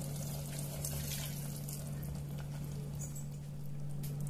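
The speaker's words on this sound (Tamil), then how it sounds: "2 டம்ளர் அரிசிக்கு 3 டம்ளர் தண்ணி ஊத்துறேன்" Water pours steadily into a cooking pot for mushroom biryani, three tumblers of water measured for two tumblers of rice, making a continuous close splashing rush over a low hum.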